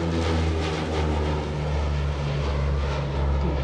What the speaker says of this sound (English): Here's that high speed pass.